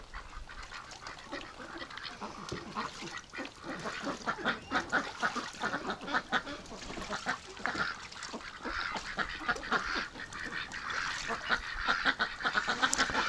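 Ducks quacking and honking while bathing in a tub in the evening, a busy run of repeated loud calls and splashy fluttering close by, building toward the end.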